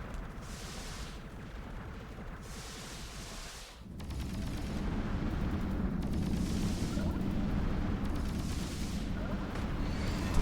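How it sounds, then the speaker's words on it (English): Dense rumbling explosions and rapid gunfire-like blasts from a shoot'em up video game boss fight, continuous and loud throughout with a brief dip near the middle before the barrage intensifies. "I don't know what all those explosion sounds are."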